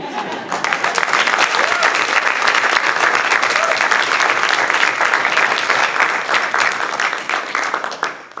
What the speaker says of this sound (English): giving all of our 25-year honorees a well-deserved round of applause